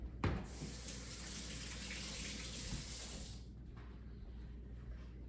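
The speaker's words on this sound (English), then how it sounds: "Hold on while I wash my hands" Running water from a kitchen tap splashes over hands being washed, a steady gush for about three seconds, then the flow cuts off, leaving faint drips and handling sounds.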